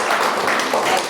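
Applause from a church congregation during a sermon, a dense, steady patter of many hands clapping for about a second with no break.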